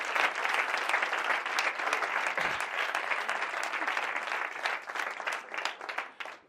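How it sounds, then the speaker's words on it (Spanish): Warm, dense audience applause at an addiction-treatment talk, honoring people in recovery, a sustained crowd of clapping hands that thins out toward the end. "un gran aplauso también para los adictos en recuperación"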